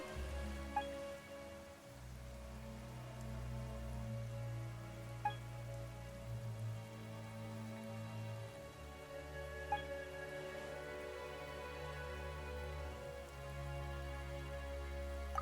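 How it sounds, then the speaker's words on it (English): Rain falls in a Genshin Impact cutscene: a steady, moderate patter on surfaces runs throughout under soft sustained tonal background music, with a few faint drip-like ticks and no talking. "Why is it raining all of a sudden?"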